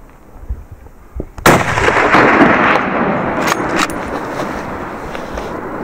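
A rifle fires once during a bezoar ibex hunt in Turkish mountains, a single sharp loud crack that rolls into a long echoing rumble across the terrain, with faint handling noises before the shot.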